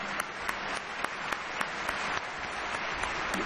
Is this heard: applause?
yes